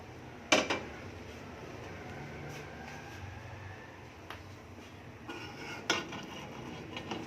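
Moong dal served from a pot into a dish, heard as a few sharp metallic clinks of a spoon against cookware, faint and close in a quiet kitchen, with no talk.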